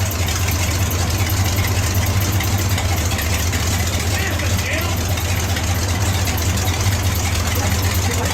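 A belly tank race car engine running with no muffler, a loud, steady, low rumbling idle that holds close and even throughout.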